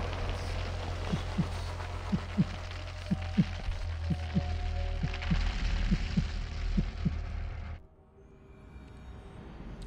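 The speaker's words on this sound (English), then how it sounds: "heartbeat, man." A rhythmic heartbeat thumps steadily through a low throbbing hum in the video game Assassin's Creed Valhalla: Dawn of Ragnarök, a dozen or so loud beats before the drone cuts off abruptly and a quieter ambience remains.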